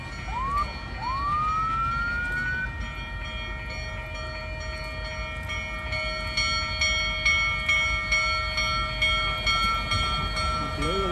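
A fire department siren wails with rising sweeps and then holds a long steady tone, sounding from a distance over a low rumbling background.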